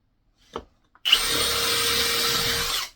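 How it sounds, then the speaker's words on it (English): Power drill bores a pilot hole into wood while building a swift nest box, a short tap and knock first, then a steady loud whirring grind running about two seconds before cutting off. "So I'm just going to make my pilot hole first."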